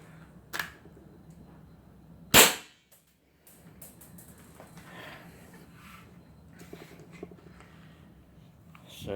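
An Action Army AAP-01C airsoft pistol on HPA with a faulty bolt that fails to return, giving a few sharp clicks and one loud, crisp snap of a shot, then quiet mechanical handling and faint rustle.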